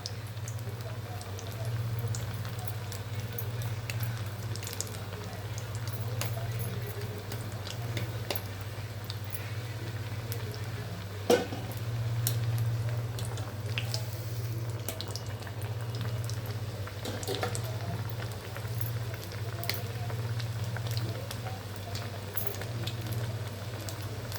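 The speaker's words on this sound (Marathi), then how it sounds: "तेल तापलेलं आहे. मंद गॅसवरच तळायचं." Soaked chickpea vadas deep-fry in hot oil over a low flame, giving a steady, soft sizzle and faint bubbling that holds evenly throughout, with small pops and crackles scattered across it.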